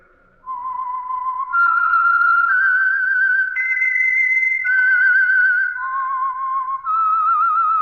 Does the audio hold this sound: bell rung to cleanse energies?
no